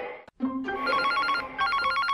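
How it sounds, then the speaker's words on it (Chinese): A telephone rings with a bright electronic ringtone during a televised dating show, a short repeating tonal pattern that is loud and close, with no talking over it. "佳玉的妈妈接下电话。"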